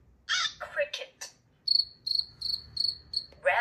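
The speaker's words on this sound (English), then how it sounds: "Cricket." A short spoken word comes first, then a cricket chirps in a clear, even series of about seven bright, high pulses, near and distinct against a quiet background.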